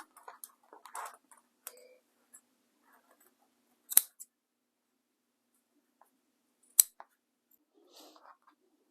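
Scissors snip through quilted phone case fabric in a few sparse, crisp cuts, with two louder sharp snips spaced apart and near silence between.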